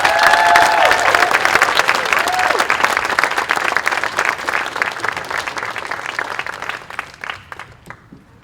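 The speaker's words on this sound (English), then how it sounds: "give a huge round of applause for each graduate as their name is called" Loud audience applause at an 8th grade promotion ceremony greets a graduate as the name is called, dense clapping filling the room with a brief cheer early on, then thinning and fading toward the end.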